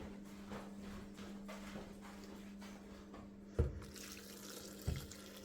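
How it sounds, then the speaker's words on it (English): Water runs steadily into a Morphy Richards soup maker being filled for leek and potato soup, a close, even splashing stream over a low hum, with two brief knocks near the end. "I'm going to fill that up with some more water first of all"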